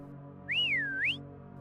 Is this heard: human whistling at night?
yes